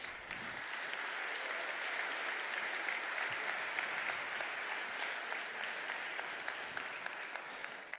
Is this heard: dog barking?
no